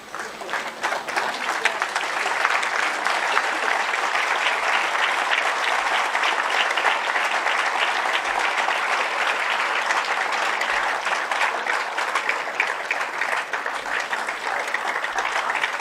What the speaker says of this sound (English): stand at their places and applaud